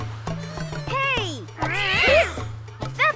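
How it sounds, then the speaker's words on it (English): Cartoon cats meow in quick succession, rising and falling cries over a bouncy animated music bed, with a couple of louder overlapping yowls near the middle. "Oh, kitties!"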